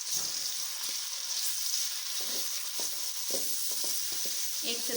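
Chopped onion frying in about three tablespoons of cooking oil in a kadai, a steady hiss of sizzling with soft, irregular scrapes and stirring knocks from a spoon throughout, close and without voices.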